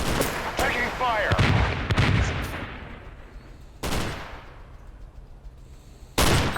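Shots ring out in The Division 2: several sharp, loud gunfire cracks early on, then isolated blasts spaced seconds apart with decaying tails between them.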